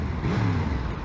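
Yamaha MT-10 motorcycle engine revving up and settling, a loud, close rising-and-falling engine tone over steady road noise in a short burst.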